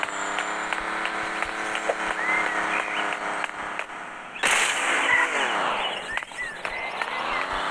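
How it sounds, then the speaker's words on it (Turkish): A loud car explosion bursts out midway through busy video game sounds, with scattered popping shots and a steady engine-like drone continuing after it. "Araba patladı."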